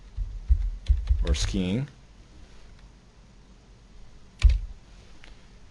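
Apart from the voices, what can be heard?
typing on a computer keyboard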